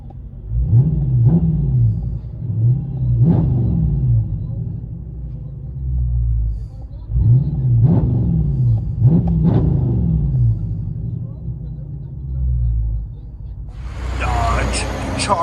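A 2020 Dodge Charger Scat Pack with a 6.4L HEMI and Dynomax Race Bullets exhaust, heard from inside the cabin, gives repeated deep revs rising and falling over a low rumble, with a sharper burst near the end.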